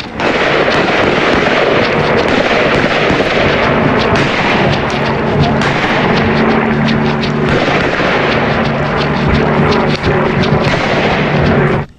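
Gunshots fired by Chilean Carabineros police in the incident that killed Camilo Catrillanca, heard as a dense run of sharp repeated bangs over constant loud, harsh background noise that lasts throughout.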